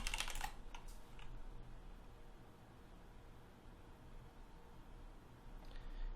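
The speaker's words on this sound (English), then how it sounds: "Let's type in coaching." Soft, rapid clicks of a computer keyboard being typed on, clustered in a burst at the start and again briefly at the end, close and quiet over a low steady hum.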